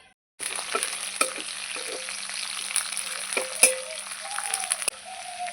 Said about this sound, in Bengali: পেঁয়াজটা ফোড়ন দিয়ে দেবো